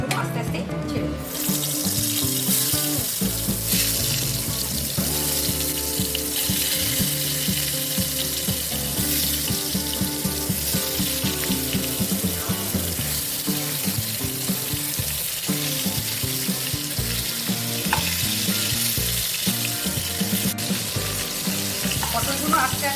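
Pieces of pointed gourd fry in hot oil, a continuous close sizzle and crackle of oil that runs the whole time, with soft clinks and shuffles of turning the pieces.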